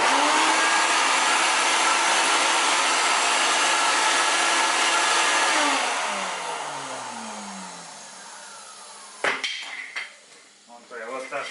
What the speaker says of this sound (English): always remember to start the vacuum first.